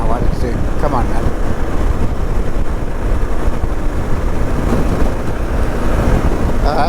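Strong wind buffets a moving vehicle's microphone on a road trip, making a loud, steady, low roar that fills the whole stretch with constant gusting rumble and no clear breaks.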